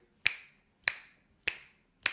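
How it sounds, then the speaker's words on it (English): Four crisp, close finger snaps fall in an even rhythm about 0.6 seconds apart, each a sharp click with a short fading tail, alone against silence. "you can snap your fingers while moving"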